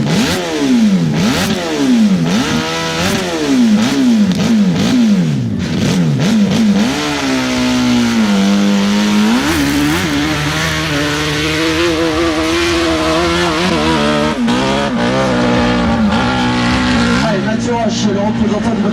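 A motorcycle engine revs hard through repeated gear changes on a steep hill climb, rising and falling pitch as it climbs, loud and close, with a French announcer talking over it.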